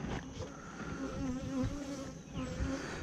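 A captured honey bee swarm hums steadily inside a hive fitted with a thick polypropylene propolis trap as an inner cover, a dense continuous buzz of many wings at close range, fairly loud and even throughout with no voices.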